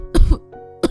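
A woman coughs and clears her throat while eating, two rough close bursts separated by a short muffled pause and followed by a third brief cough.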